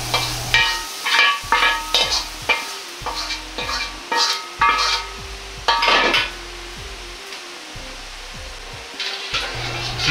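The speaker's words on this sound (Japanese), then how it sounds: "炒めて水分がなくなっていたら取り出しておきます。" Ingredients for spicy Sichuan-style fried rice are stir-fried in a pan, with repeated rhythmic scraping and clanking strokes over a steady sizzle, close and fairly loud throughout.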